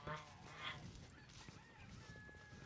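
Chickens cluck and squawk in short, irregular honking calls close by, mixed with background noise and some talking.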